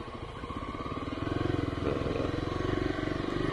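A Kawasaki KLX 300 dirt bike engine runs at a steady, throaty idle-to-cruise pace, growing louder with a pulsing rhythm as the rider sets off on a sandy Florida track.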